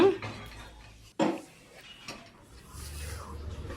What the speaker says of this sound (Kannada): ಕುಕ್ಕರ್ ಇಟ್ಕೊಡೋಣ.